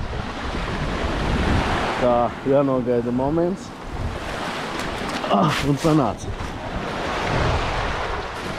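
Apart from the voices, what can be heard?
sea waves crashing on the shore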